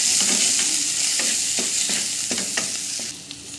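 Spice paste of Kashmiri chilli powder, ground cumin and coriander fries steadily in a pan for prawn malai curry, with a close continuous sizzle and soft stirring scrapes at regular intervals.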